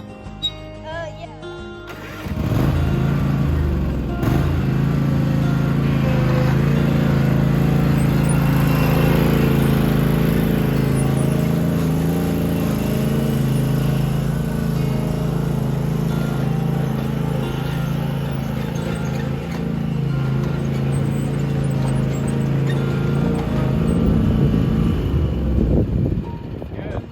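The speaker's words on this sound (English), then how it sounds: "driving the lawnmower" A riding lawn mower's small engine starts up and runs steadily with a loud droning hum for most of the time, varying slightly in pitch before dropping off.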